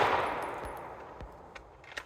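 A rapid string of handgun shots on a shooting range, several sharp cracks in quick succession that fade into echo, then a few fainter bangs, loud and close.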